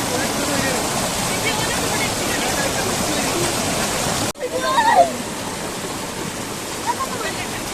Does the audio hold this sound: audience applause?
no